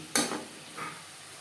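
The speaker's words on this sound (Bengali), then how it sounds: "লবণ হলুদ পেঁয়াজ টমেটো ও মশলার সাথে বেশ ভালো করে মিক্স করে দেব" Fish being stirred in a pan with salt, turmeric, onion, tomato and spices, two short scraping strokes against the pan under a light sizzle, close and fairly soft.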